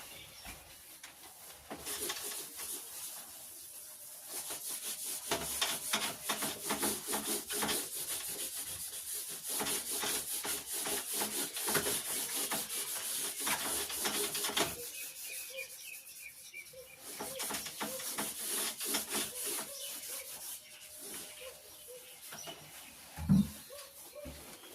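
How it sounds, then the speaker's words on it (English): A chalkboard in a mathematics classroom wiped clean with steady, continuous rubbing strokes, close and fairly loud, with a brief pause in the middle and a faint knock near the end. "So let me rub the board"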